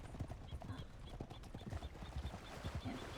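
Horse hooves clip-clop at a steady walking rhythm, fairly close and moderately loud, with a faint neigh and low voices talking under the hoofbeats.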